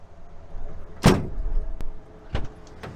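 A truck door clunks shut loudly and close, followed by a thin rattling click and a couple of lighter knocks while a low vehicle rumble runs underneath.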